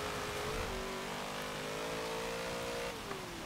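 The engine of a 2010 Ford Crown Victoria Police Interceptor with an automatic gearbox, in a Forza racing game, holds a steady high rev in second gear. It drones evenly, dips slightly in pitch partway through, then falls away near the end.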